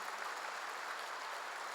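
A church congregation claps together in a steady, even burst of applause that fills the room for a couple of seconds, with no voices over it.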